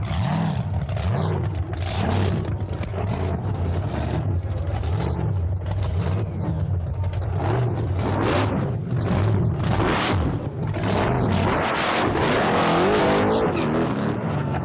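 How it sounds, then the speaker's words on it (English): A wheelstander pickup truck idles and revs loudly at the Atco drag strip before a wheels-up pass, its engine droning steadily with fluctuating pitch and occasional bursts throughout. "Here he gets ready for a wheels-up pass down the Atco drag strip."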